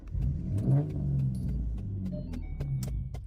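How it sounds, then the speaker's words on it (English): A car engine turning over and starting, a steady low rumble with some rising revving and a faint rattle, heard up close with no talking. "my car make noise when I turn it on"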